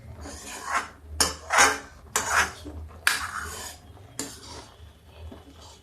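Kheer made with kakun rice being stirred in a pot after adding bura, scraping and rasping against the metal in several separate bursts that are near and fairly loud, with no talk.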